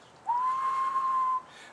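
A single sustained whistled note from a person underwater, holding steady pitch for about a second, clear and fairly close against a quiet background.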